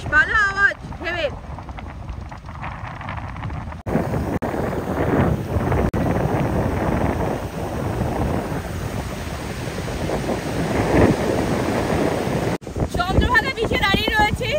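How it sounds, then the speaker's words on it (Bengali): Sea waves at Chandrabhaga beach roar in a broad, rolling wash under gusting wind buffeting the microphone, with a person talking briefly at the start and end. "সমুদ্রের আওয়াজটা শুনতে পাচ্ছ?"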